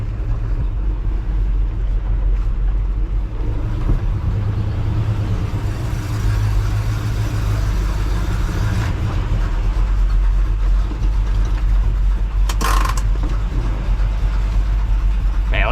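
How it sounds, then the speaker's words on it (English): A truck engine idles steadily at close range, a deep continuous rumble with a brief higher clatter near the end and no talking. "Man, listen to that idle though."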